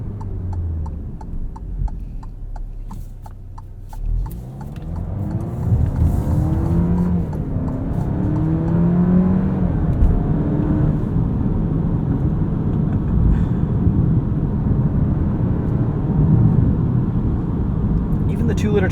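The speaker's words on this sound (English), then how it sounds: "Even the 2-liter turbo sounds pretty good. No gimmicks, no piped-in noise. Just pure engine sound." A 2023 Alfa Romeo Giulia Estrema's turbocharged 2-liter engine pulls hard under acceleration, its rising drone climbing through gears with a steady, close rumble beneath.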